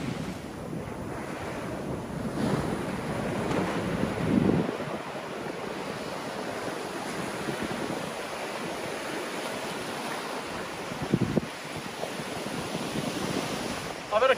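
Ocean surf rolls and breaks continuously on a beach during fishing, loud and close with heavy wind buffeting on the microphone and brief splashy bursts as waves hit.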